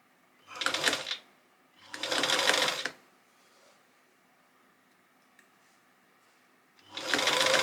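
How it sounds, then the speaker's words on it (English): A sewing machine stitches a gathered seam on a summer dress made from a gingham shirt and patchwork, running in three short, close bursts with quiet pauses between them. "So I'm just going to slowly sew this seam."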